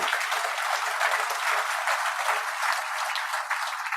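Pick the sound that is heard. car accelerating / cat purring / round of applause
round of applause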